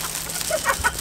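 Chickens clucking around a camper in Morocco, a few short close clucks over steady outdoor background noise.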